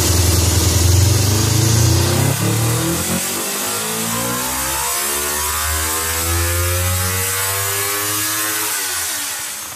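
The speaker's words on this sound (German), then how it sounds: "durch die größere Luftmenge verändert sich das Ansauggeräusch bei hohem Tempo" A motorcycle engine with ram-air intake runs at high speed, a loud gritty roar that falls away in pitch as revs drop, then settles into a steady mid-range drone.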